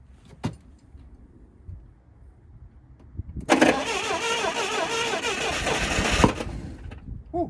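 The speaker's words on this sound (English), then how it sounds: "Whew, it likes the backfire." An old auction forklift engine, run with the choke on at full throttle, cranks and catches for a few seconds in a loud, rough, roaring burst, with sharp backfire pops before and after.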